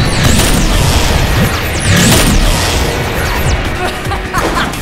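Grenades go off in the Deadpool video game, a run of loud booming blasts layered over a dense, continuous wash of game noise and rattling debris, with no pause between them.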